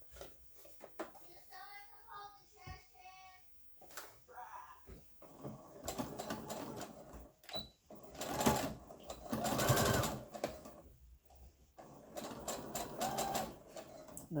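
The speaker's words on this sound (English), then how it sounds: "now I'm going to sew across the top" A sewing machine stitching across the top of a fabric piece, running in bursts of rapid mechanical whirring that start and stop, at moderate volume with quieter handling sounds between runs.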